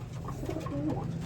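A racing pigeon cooing in a loft, soft low murmuring coos repeating close by over a steady background hum, with no talk.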